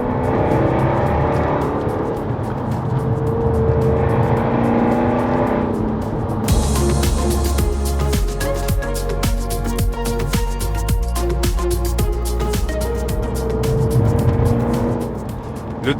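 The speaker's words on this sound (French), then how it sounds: "et le moteur qui hurle à la mort" Jaguar F-Type V8 R engine roaring loudly while driving fast through curves, a sustained high-revving wail that surges into harder acceleration midway, with no talk over it.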